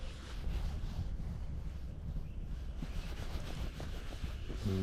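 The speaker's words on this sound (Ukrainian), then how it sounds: "тому що є боковий вітер" Side wind blowing across a lakeshore or riverbank during pike fishing, a steady low rumble buffeting the microphone without pause, loud and close, with no voices.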